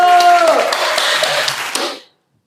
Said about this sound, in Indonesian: berikan tepuk tangan yang meriah dulu